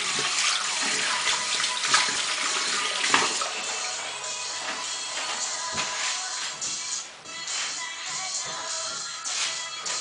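Tap water running steadily into a sink while hands are washed after styling hair, a loud close hiss with shifting splashes and a brief dip near the end, no speech.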